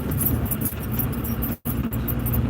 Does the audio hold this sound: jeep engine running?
yes